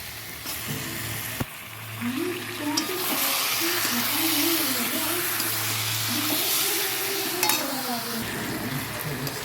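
Marinated chicken fries in a spiced tomato masala in a pan while being stirred, producing a steady close sizzle with scraping stir sounds and a faint voice murmuring underneath.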